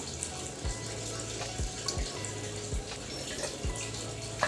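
Trotters are being washed by hand under running tap water, giving a faint steady trickle with soft, regular low thumps as each piece is handled and rinsed.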